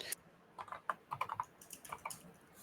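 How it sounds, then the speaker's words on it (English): Typing on a computer keyboard: a run of light, uneven key clicks and taps at close range with no voices, irregular and steady for a few seconds. "And we're typing away."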